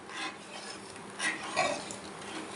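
Tamarind pulp is stirred into a pot of traditional Maharashtrian colocasia-leaf curry, soft scraping and a few light clinks of a spoon against the metal pot, faint and close.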